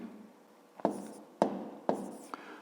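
A pen scratching on paper while writing out a maths problem, four short separate strokes at a close, quiet level over a faint background.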